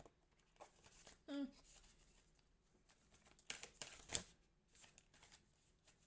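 Tarot cards riffle and shuffle in a quiet room, a brief burst of card flutter followed by a louder slap-like shuffle, with soft speech at times.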